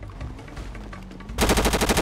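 Automatic gunfire in the game GTA 5 erupts suddenly after a quieter stretch, a loud, rapid burst of evenly spaced shots continuing to the end.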